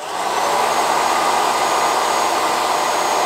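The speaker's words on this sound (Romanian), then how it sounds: "Când pornesc aspiratorul, începe să învârte și peria." A Rowenta X-Force Flex 15.60 cordless stick vacuum runs steadily with its motorized brush head spinning, giving a loud, continuous airy whine that rises at the start and then holds even, with no voices.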